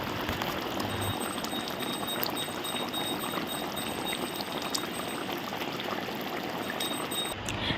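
Fish curry broth simmers and bubbles steadily in a pan after water and four pieces of fish go in, a continuous close, busy boiling sound with no talking.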